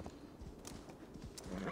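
Horse hooves clop in Assassin's Creed Valhalla, a soft, faint run of steady walking beats against quiet game ambience.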